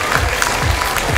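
An audience at a singing competition final in Christchurch gives dense, continuous applause, heard close and fairly loud in a short burst.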